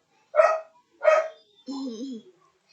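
A pet dog indoors gives two short, sharp barks followed by a longer whining yip, each separated by silence, fairly close but moderate in loudness.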